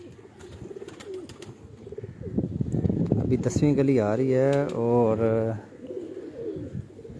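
Pigeons coo softly nearby while a person speaks over them, the throaty cooing rising clearly for a few seconds amid background chatter.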